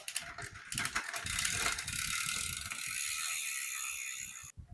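A bicycle drivetrain being back-pedaled makes the freehub ratchet click rapidly and steadily for several seconds, close and fairly loud, with no talking.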